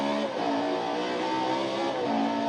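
A Ferrari 458 engine in a racing video game drives with a dense, sustained roar that holds steady and loud, heard alone with no talk over it.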